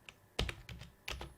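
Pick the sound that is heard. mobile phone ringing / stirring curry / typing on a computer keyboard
typing on a computer keyboard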